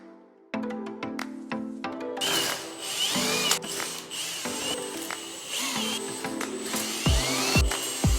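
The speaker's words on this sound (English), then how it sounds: "now I'm going to drill the holes for our hardware" Power drill boring holes for hardware in widebody car panels, repeated short sharp bursts and clicks with ratcheting mechanical noise, close and fairly loud, a few low thumps near the end, no voices.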